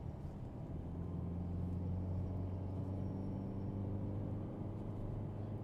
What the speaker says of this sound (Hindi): साउंड तो आएगी ज़रूर भाई, डीजल इंजन है, उसमें कोई ऐसी शिकायत नहीं कि साउंड आपको ना कराए।